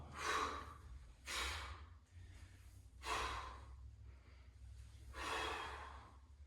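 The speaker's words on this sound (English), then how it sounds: "breathing out as I come up." Heavy, rhythmic breaths during TRX suspension-trainer squats, with four strong exhalations spaced about every second or two, sounding close to the microphone over a low background hum.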